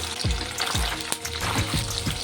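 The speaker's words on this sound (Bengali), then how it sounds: "তেলটি গরম হয়ে গেছে পনিরটাকে ভেজে নেবো" Paneer fries in hot oil in a kadai, giving a steady bubbling sizzle with a few dull knocks and stirring sounds close by. The pan is heard alone, without voices.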